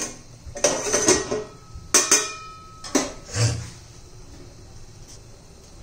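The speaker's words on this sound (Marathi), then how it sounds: "आता त्यावर झाकण ठेवते." A lid set down on a pan of egg masala, giving a few loud metallic clanks and rattles close by over about three seconds, then a quiet stretch.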